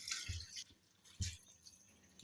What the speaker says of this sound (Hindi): तो उसके बाद इसमें ऐड कर देंगे थोड़ा सा पानी।